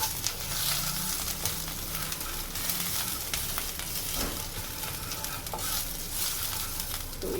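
Ginger paste and whole garam masala fry in a pan for basanti pulao, a steady close sizzle with occasional stirring scrapes throughout, no voices.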